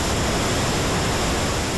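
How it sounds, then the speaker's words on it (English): Flood pumps roar at a flood pump station during high water, a loud, steady broadband rush like a waterfall that holds even and unbroken from start to finish. "Flood pumps roaring at the Pond Creek Station, which backs up to Fort Knox."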